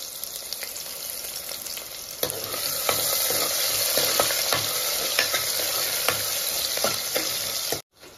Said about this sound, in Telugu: కొంచెం జీలకర్ర, చిట్టపట్ట అంటా ఉంది కదా, ఆనియన్స్ అవి ఫ్రై అవ్వాలి.